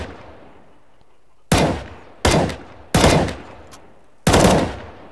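Gunfire in Counter-Strike: Global Offensive, a weapon firing three-round bursts: four loud, sharp bursts of shots, each with a decaying tail, arriving at uneven intervals after a quiet start.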